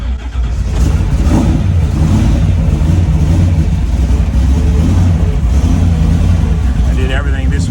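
A 1941 Willys Gasser with an electric fuel pump idles loudly and roughly on a cold start, a close, steady rumbling engine note with slight throttle swells, while a person talks over it.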